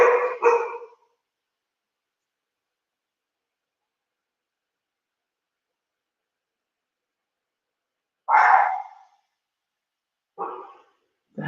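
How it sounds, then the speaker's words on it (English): Dog barks come as a few separate short bursts: one pair at the start, then another bark and a shorter one later, each close and clear with dead silence between. "The Hounds are barking."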